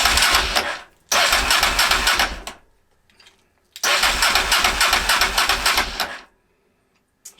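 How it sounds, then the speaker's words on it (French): Honda Transalp motorcycle engine cranking to life in two bursts, each running roughly two seconds at a rough, uneven idle before cutting out, with a short quiet gap between and silence at the end. "on n'est pas tout à fait au tour conseillé en termes de ralenti par Honda"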